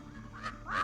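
A human voice imitates two or three large corvids yelling, giving two short rising squawk-like cries close by, the second louder and longer, with no other talk.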